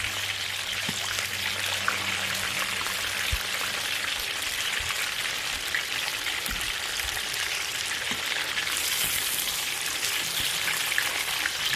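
Food frying in hot oil in a wok, a dense steady crackle and sizzle with scattered pops running throughout at an even, fairly loud level, no voices.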